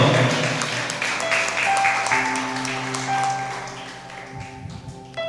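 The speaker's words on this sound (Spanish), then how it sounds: "Denle un aplauso al Señor" Steady applause from a church congregation fills the space, with a sustained musical tone held underneath, slowly fading toward the end.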